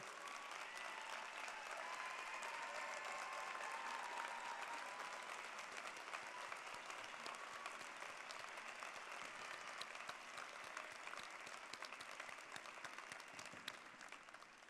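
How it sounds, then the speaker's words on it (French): An audience at a university graduation ceremony applauds the graduating cohort, with dense, steady clapping throughout that stays loud and slowly thins toward the end. "Applaudissons chaleureusement cette belle cohorte."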